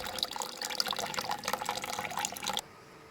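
Tap water runs steadily into a container in a kitchen for rinsing pinto beans, a close splashing stream that stops abruptly near the end.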